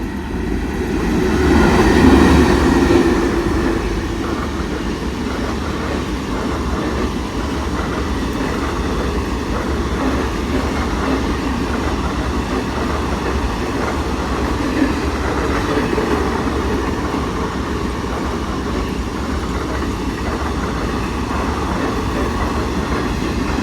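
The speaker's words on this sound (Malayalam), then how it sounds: "ആദ്യം വന്ന വണ്ടി നാഗർകോവിലിൽ നിന്ന് ചെന്നൈ പോകുന്നൊരു സ്പെഷ്യൽ ട്രെയിനാണ്." A special passenger train from Nagercoil to Chennai passes a station at Kalamassery, a steady, loud rolling rumble of railcars over rails that swells early on and keeps going throughout, with no voices.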